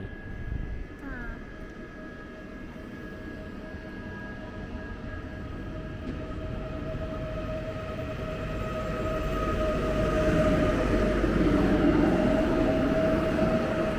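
An Intercity passenger train named Słowacki rumbles steadily at Pabianice station in Poland, a faint tonal hum over the noise, the roar growing louder and heavier as it draws closer.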